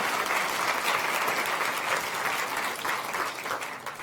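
Audience at the FameLab International Final 2016 science communication competition applauds the final finalist, a thick, steady wash of many clapping hands close and full throughout, easing slightly toward the end.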